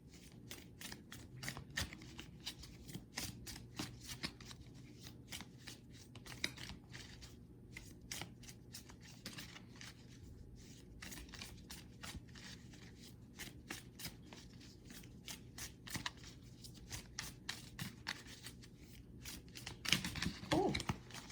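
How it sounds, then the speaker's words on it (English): Tarot cards being shuffled continuously by hand, dense crisp riffling and slapping clicks in quick irregular bursts, close and fairly quiet, with no talking. "Let's just shuffle again, cut again, and then we try to shuffle again."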